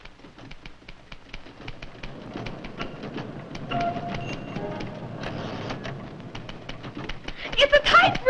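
Typewriter typing played back from an old phonograph record: a steady run of sharp, rapid key clicks with a bell-like ding near the end, moderately loud over a faint background hiss.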